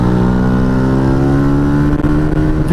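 A Yamaha MT 125 motorcycle climbs a mountain road toward Valloire and the Col du Galibier, its engine droning steadily and loudly up close with a firm, sustained hum under load.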